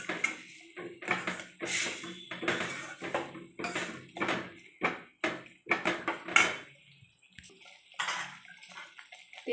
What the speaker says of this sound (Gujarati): સેવ નાખીને હલાવી દઈશું।